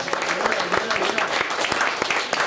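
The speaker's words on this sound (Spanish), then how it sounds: "¿Cuántos le dan un aplauso al Señor?" A church congregation in the Bronx, New York applauds in a dense, continuous wash of clapping that fills the space, with a voice faintly mixed in underneath.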